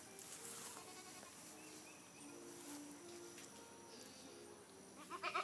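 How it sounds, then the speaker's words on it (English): A friendly goat bleats faintly among a small herd near a hay bale on a farm, the calls soft and distant over steady outdoor background noise. "Yes, this seems to be a very friendly goat."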